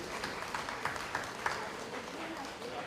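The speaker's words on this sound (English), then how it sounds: "if we can just give them a quick round of applause for their dedication and hard work" Audience at a funeral service clapping, a short, moderately loud round of applause with scattered individual claps.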